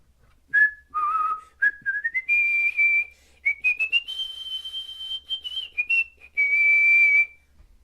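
A person whistles the main theme from The Legend of Zelda: A Link to the Past alone, a bright, lilting melody with clear sustained notes and short phrases rising and falling in pitch, close and fairly loud.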